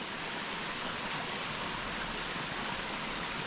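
Water rushes at the Kapildhar waterfall and stream in a rocky valley near Beed, a constant, soft, even hiss of falling and flowing water with no voices.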